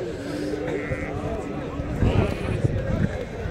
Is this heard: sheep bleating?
yes